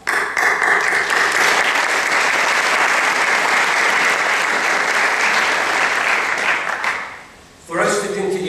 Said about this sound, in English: We need to be applauded for that